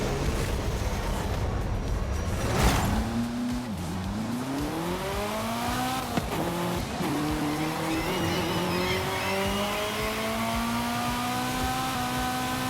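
Ferrari F40 racing in Forza Horizon 5, its engine revving up through rising gears with a sharp tire squeal and a brief dip in pitch, then climbing steadily to a loud, sustained high-revving drone.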